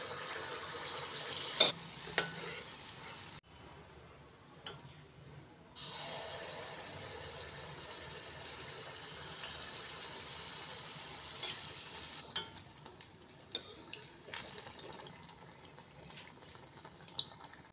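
Rava paniyaram frying in oil in a paniyaram pan, a faint steady sizzle with occasional clicks and scrapes as pieces are turned, quiet and close with no voices.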